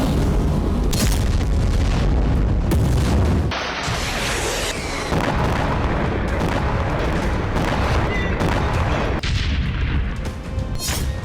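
Heavy explosions in the Gaza war, a continuous loud barrage of deep booms and blasts, dense and rumbling throughout with no talk.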